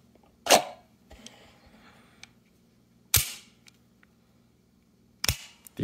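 An HK USPc pistol fitted with a Streamlight TLR-4 light fires three sharp, loud shots spaced a few seconds apart, each with a short echoing tail over a quiet outdoor background.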